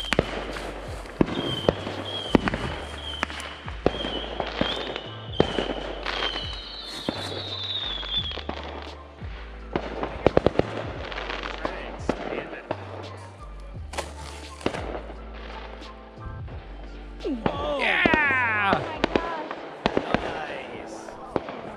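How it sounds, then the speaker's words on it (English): Fireworks go off repeatedly at varying distances, with sharp cracks and booms and a crackling burst near the end, while people talk throughout. "Fireworks."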